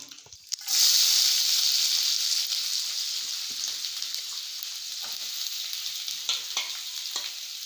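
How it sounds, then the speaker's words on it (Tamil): Mustard seeds and onions frying in hot oil in a kadai, a loud steady sizzle that bursts in suddenly and holds, with faint scattered crackles and spatters throughout and no talking. "கடுகு பொறிஞ்ச உடனே நம்ம வெங்காயம் சேர்த்துக்கலாம்"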